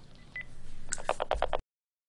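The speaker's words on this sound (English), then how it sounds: "this is a Panasonic KX-TGA 571S phone, and you're going to call in again" Dialing tones from a Panasonic KX-TGA571S cordless phone: one short beep, then a quick run of about six tone bursts pressed in steady rhythm, close and clear, with no talk.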